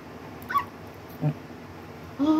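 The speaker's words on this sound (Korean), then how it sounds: "어제 봤던 강아지다." A puppy gives a few faint, brief whimpers at irregular intervals against a steady background hum, fairly close, with no clear speech.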